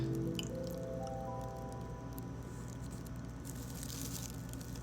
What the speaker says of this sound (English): Now I'm supposed to pour the sample water into this tube.